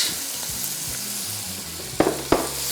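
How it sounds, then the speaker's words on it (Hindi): Chopped onion added to hot oil in a pan while cooking Sindhi yakhni pulao, giving a soft steady sizzle and frying crackle, with two sharp stirring clatters near the end. "ये थोड़ा सा फ्राई हो गया, अब इसमें शामिल कर देंगे हम ये चॉप किया हुआ प्याज"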